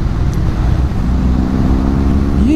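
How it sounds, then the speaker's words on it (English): A BMW R1250GS motorcycle on a test ride through twisty roads gives a steady, loud engine drone with wind rush, rising in pitch toward the end as it accelerates. "This is a nice bike in the twisties."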